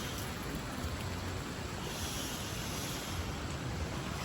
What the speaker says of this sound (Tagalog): Grabe, lakas ng ulan dito.